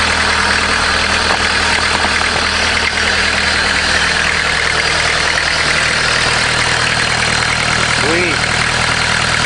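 A diesel engine newly installed in a caravan idles with a loud, steady low rumble throughout, and a voice briefly speaks over it.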